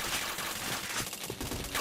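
Dense, continuous gunfire in a shooting video game, bursts of shots overlapping with game effects at steady loudness throughout.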